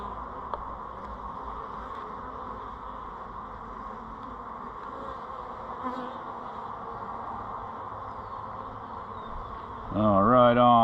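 Honeybees buzz in a steady, dense drone as a hive is cut out of a wooden beekeeping box, the hum staying constant throughout with a louder, closer swell near the end.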